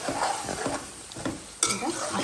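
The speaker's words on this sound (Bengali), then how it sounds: "এটা আস্তে আস্তে কষতে থাক।" Ground spices and chili powder sizzle in a pan with a splash of water while a spoon stirs and scrapes them for fish biryani, with a sharp clatter near the end.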